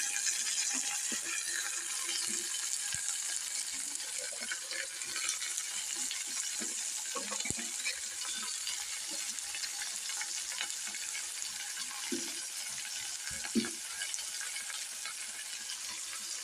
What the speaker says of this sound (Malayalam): നമ്മൾ പറയലേ എണ്ണയുടെ അകത്തിട്ടാണ് ഇത് വേവിക്കണം വെള്ളം ഒഴിച്ചല്ല